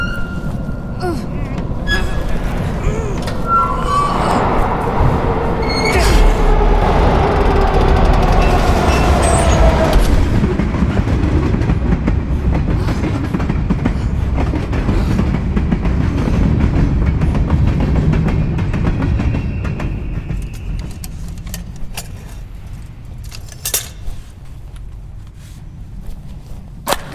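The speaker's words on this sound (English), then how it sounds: "I hear the subway and they're getting closer." A subway train rumbles and roars loudly through a tunnel, building to a heavy sustained rush before easing off, with scattered clanks and brief speech mixed in.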